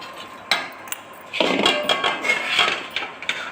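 Light clinks and taps of utensils as cooked mutton paya ingredients are transferred into a mixer jar, a few sharp knocks followed by a busier stretch of scraping and clattering.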